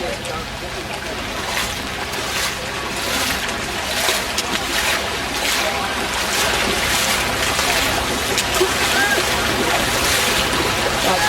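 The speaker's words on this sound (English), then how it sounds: "That's now a fast flowing river." Fast-moving floodwater rushing like a river across a flooded field at the Glastonbury festival in 2005, a loud, continuous broadband roar with splashing that stays steady throughout.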